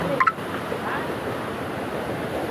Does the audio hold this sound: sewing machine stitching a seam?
no